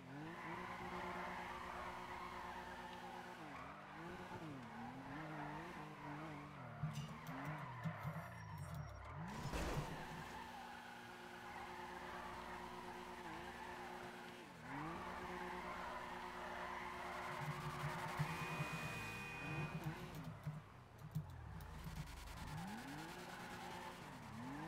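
Cars drift in FiveM, engines revving and swooping in pitch while tires squeal and skid in long sustained slides, with a sharp crash-like burst midway and steady loud motor drone throughout.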